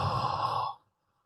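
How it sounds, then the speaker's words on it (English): One slow, breathy exhale during a guided meditation, a soft, even rush of air that holds steady and then fades to silence. "Breathing in and out together to the count of 2."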